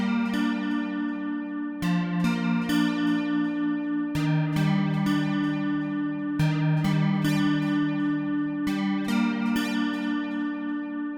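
Default preset of the Sculpture modelling synth in Logic Pro plays a sequence of rich, sustained harmonic tones with repeated note attacks, a melodic line moving over steady low notes, alone and without talk.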